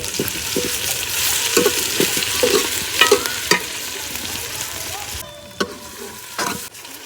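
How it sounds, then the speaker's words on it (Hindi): Ginger garlic paste frying with browned onions in a home village kitchen, a steady sizzle under repeated scraping and stirring strokes of a spoon in the pan, close and moderately loud. "अदरक लहसुन को अच्छे से भूना है"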